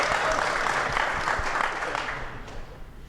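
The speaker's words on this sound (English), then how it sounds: "Let's big round of applause for Phillip down there." A crowd at a live podcast recording at a trampoline and attractions trade event gives a broad wash of applause that stays steady, then slowly fades as voices mix in underneath.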